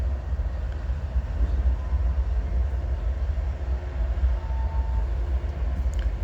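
An Amtrak train rumbles across the Livingston Avenue swing bridge over the Hudson River, a loud, steady low roar of rolling wheels and engine that carries through the whole clip.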